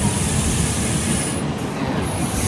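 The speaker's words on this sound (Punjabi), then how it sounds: "ਆਪਣੀ ਟ੍ਰੇਨ ਰੁਕੀ ਸੀ ਤੇ ਹੁਣ ਬਸ ਉਹ ਫੇਰ ਚੱਲਣ ਹੀ ਲੱਗੇ ਆ" A passenger train starting to roll again after a stop near Delhi makes a dense, loud rumble and hiss of wheels and carriages, steady throughout with no voices.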